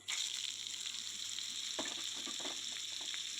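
Steamed broad beans fry in hot oil, a steady bright sizzle with occasional scraping of a stirring spoon partway through, no voices.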